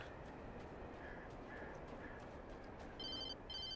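A telephone rings in the Alan Wake video game, two short bursts of high electronic trills near the end over a dense, steady backdrop of game ambience.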